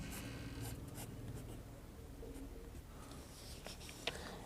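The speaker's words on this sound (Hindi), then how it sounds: "यहाँ हल लिखते हैं" Pen scratching steadily across paper while a Class 10 maths solution is written out by hand, a continuous soft scribble with faint low hum in the room and no talking.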